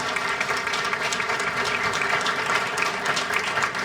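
A crowd at an evening celebration for an artist named Teddy applauds in a dense, steady wash of clapping that stays loud and even throughout.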